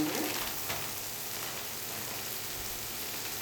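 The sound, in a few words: vegetables frying in pan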